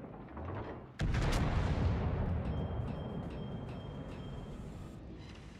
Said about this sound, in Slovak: A tie granátiky, pozri sa.